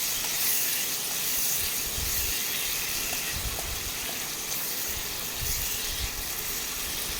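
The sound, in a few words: stir-frying shrimp with spices in pan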